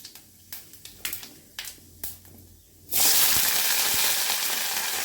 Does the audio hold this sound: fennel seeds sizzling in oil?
yes